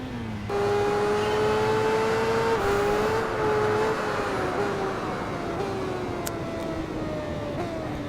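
A Ducati superbike engine in the Tourist Trophy racing video game holds a loud, steady high-revving whine with gear-change steps in pitch, running continuously with no voices.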